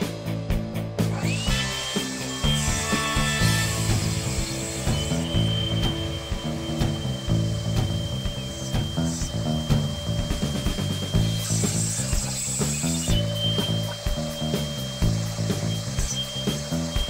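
A power router cuts grooves into a wooden workpiece, a continuous loud whine with rhythmic chattering bursts as the bit bites, running steadily throughout.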